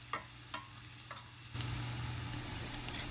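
Onion fries in a pan for veg pulao, opening with faint sizzling and a few light stirring knocks before a louder, steady sizzle takes over up close.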